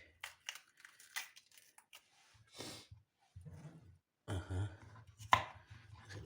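A knife chops pepper on a board while a shepherd salad is prepared, giving short close thuds and crunches in uneven bursts, grouped in brief clusters with quiet gaps between them.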